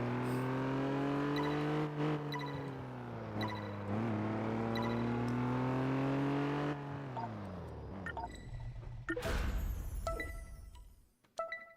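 A Jaguar E-Type's engine in the racing game Test Drive Unlimited 2 revs hard and climbs through the gears, then drops away into lower rumbling and clicks, with no voices over it.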